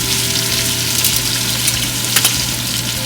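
Wagyu beef steak frying in a pan: a loud, continuous, close-up sizzle with a dense crackling hiss and a steady low hum beneath, no talking.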